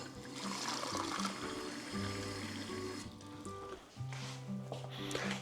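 Room-temperature water is slowly poured into a dried yeast mixture, a faint, quiet trickle and splash, nearby with soft background tones and no speech.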